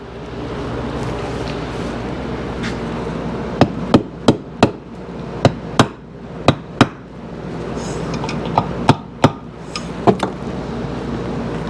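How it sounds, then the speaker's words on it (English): Sharp taps of a plastic hammer during a Yamaha AT-1 MX engine build strike in quick irregular bursts, around a dozen in all, over a low steady background hum; no one speaks. "maybe just tap them a little bit with"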